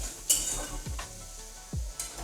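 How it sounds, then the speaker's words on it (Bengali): Turmeric, salt and Kashmiri chili powder are sautéed in a pan. A soft sizzle sits under a few close spatula scrapes and knocks over a couple of seconds. "ভালো করে কষবো।"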